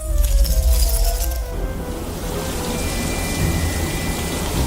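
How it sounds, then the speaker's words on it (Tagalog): Heavy rain pours down in a loud, steady broadband wash, with a few faint clinks and tonal sounds early on and no speech. "Umuulan na nga!"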